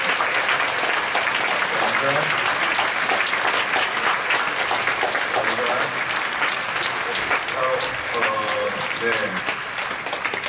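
A church congregation at a Friday night worship service applauds its young adults with sustained, dense clapping from a crowd, while someone speaks briefly over the applause.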